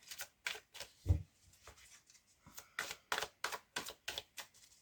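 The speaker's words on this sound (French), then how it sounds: "on va prendre le tarot des anges gardiens de Dorine Virtue" Tarot cards are shuffled close up in a brisk, irregular series of papery riffles and flicks, with one soft thump near the start and no voices.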